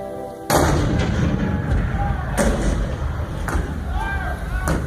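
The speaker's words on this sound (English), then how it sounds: "The cannon spoke for war, bitter, violent, and devastating." Cannon artillery fire at the Fort Sumter bombardment, April 1861: a loud boom opens, followed by further heavy reports rolling over a dense, continuous battle roar, with no speech.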